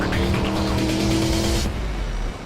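The Formula 1 safety car on the racing circuit: a loud, close engine roar with a tyre-squeal edge that holds steady and then drops to a lower rumble as the car passes.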